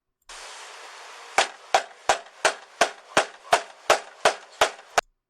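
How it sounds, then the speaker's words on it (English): A police officer bangs his knuckles on a house door: about ten sharp, loud raps in a steady rhythm after a brief stretch of background hiss. "Banging with knuckles. Bad way to knock."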